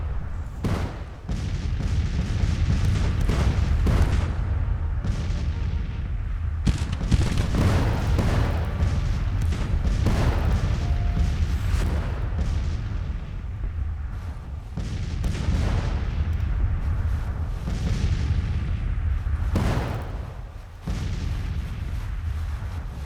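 Artillery booms roll across a Civil War battlefield in Grand Tactician, heavy low blasts arriving in uneven bursts with rumbling echoes, loud and continuous over a dense battle din.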